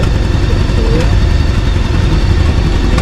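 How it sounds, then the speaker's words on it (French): A BMW K1600 motorcycle engine idles steadily and close by with a deep, continuous low rumble while the bike is put in reverse, with no clear revving throughout. "là on part sur une petite marche arrière"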